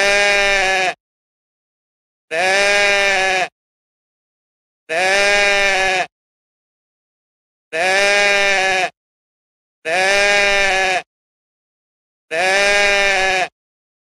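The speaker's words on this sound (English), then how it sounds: "A goat made that sound." A goat bleats six times in a steady series of loud, drawn-out calls, each about a second long and separated by silence.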